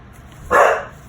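A dog gives one short, sharp bark close to the microphone after a brief quiet moment.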